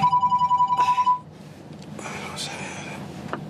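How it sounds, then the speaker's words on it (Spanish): A mobile phone rings close by with a rapid, pulsing electronic ringtone that stops after about a second, followed by quiet room noise and faint movement. "me llaman por teléfono"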